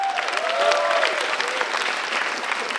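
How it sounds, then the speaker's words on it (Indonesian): Studio audience at a stand-up comedy show claps in a loud, steady burst of applause lasting a few seconds, with a faint voice rising briefly over it near the start. "Kenapa tepuk tangan?"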